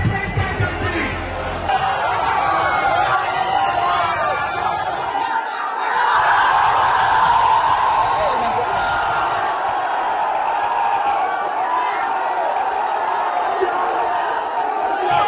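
Huge crowd gathered at a Rahul Gandhi and Akhilesh Yadav political rally in Prayagraj, a dense, steady roar of many voices with chatter and occasional cheers running throughout.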